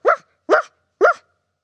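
A person imitates a dog barking with three short, loud woof-like barks evenly spaced, voiced alone and close to the listener during an English vocabulary game about animal sounds.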